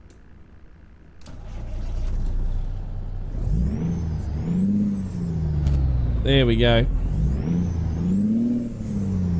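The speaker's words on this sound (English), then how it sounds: "Alright, so that is the engine sounds." International Prostar truck engine in a truck simulator game cranking and starting, then idling with a deep rumble that rises and falls through revs; someone speaks briefly over it.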